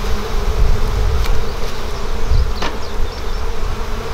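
Honey bees buzz steadily around an open hive in an outdoor apiary, a dense, continuous droning swarm heard up close with occasional louder individual bees passing by.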